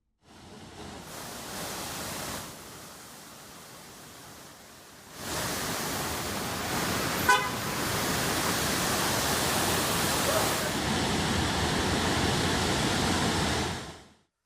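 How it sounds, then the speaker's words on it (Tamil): Floodwater from a landslide pours like a waterfall into a construction site in China. The roar is loud and continuous, rising sharply after a quieter stretch and then holding steady before it cuts off, with no voices. "மண் சரிவால ஏற்பட்ட வெள்ளம் அருவி போல பெருக்கெடுத்து ஓடி கட்டுமான தளத்துக்குள்ள புகுந்து"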